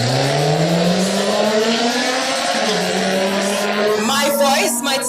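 A drag racing car in the right lane roars loudly with a rising engine pitch, then shifts and climbs again, while a commentator's voice runs over the noise.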